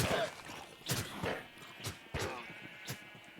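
Minecraft llamas bleat in a few short, bright bursts spread across the moment, mixed with game thuds and light footstep-like clatter at moderate volume.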